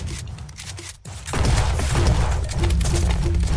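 Sustained automatic gunfire in the battle royale game ZombsRoyale, sprayed at a house, starting loud after a brief quiet gap and continuing as a dense, steady barrage for a few seconds.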